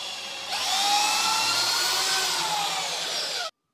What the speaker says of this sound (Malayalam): ഒരളവിൽ തന്നെ കാലഞ്ച് ബിറ്റിട്ടിട്ടാണ് ഹോൾ അടിക്കുന്നത്